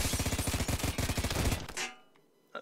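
Rapid automatic gunfire in the shooter game Ballistic Overkill, a loud dense burst of shots for about a second and a half that cuts off, followed by a faint click.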